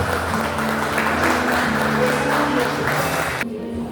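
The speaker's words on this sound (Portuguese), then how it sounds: "dê uma salva de palmas bem forte" Church congregation clapping together during a Sunday communion service, a steady dense wash of applause sustained for several seconds before cutting off abruptly near the end.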